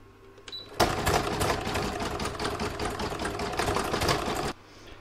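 An embroidery machine stitches the joining round of a large seashell catch-all, a steady, rapid mechanical chatter running close and continuous for about four seconds before stopping abruptly.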